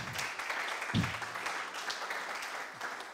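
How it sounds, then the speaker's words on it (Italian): Applause from an audience at an Italian sales training course, a steady wash of clapping throughout at moderate distance, with a brief low thump near the start. "Facciamo un applauso perché questa è la cosa più importante."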